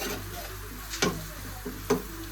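Chillies and onion sautéed in a kadai for homemade pav bhaji give a steady low sizzle, with two sharper scraping stirs of the spoon standing out clearly.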